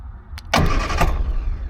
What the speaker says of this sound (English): it cranks. Alright, I won't do it too much because it will flood the engine.